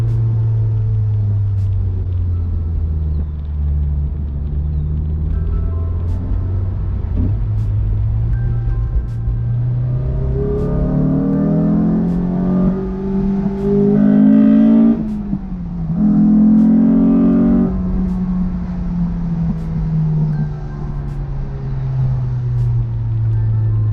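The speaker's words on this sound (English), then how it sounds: "And we're just cruising around in 4th gear, 30 to 40 miles an hour," A Honda S2000 engine cruises in 4th gear at 30 to 40 mph, a steady low in-cabin drone that swells briefly as the revs rise midway, then settles back to an even hum, with no talking.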